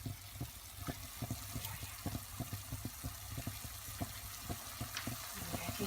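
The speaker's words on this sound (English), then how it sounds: "Okay, I can hear it sizzling." Food, including kidney beans, sizzles quietly in a frying pan with a steady hiss, punctuated by soft, regular tapping or stirring sounds.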